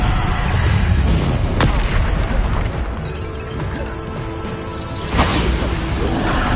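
Bombarda spell blasts in the Hogwarts Legacy wizard game, a dense, continuous barrage of booming explosions and crashes with whooshing magic, loud and layered throughout with a sharp burst near the end.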